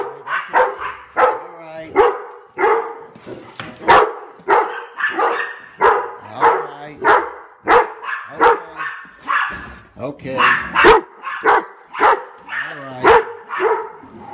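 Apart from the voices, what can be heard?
dogs barking excitedly before a walk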